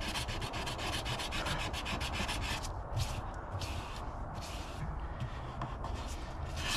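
Hand sanding on a surfboard ding gives a steady, close scratchy rasp of strokes that pauses now and then before resuming.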